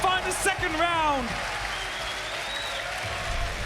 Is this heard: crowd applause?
yes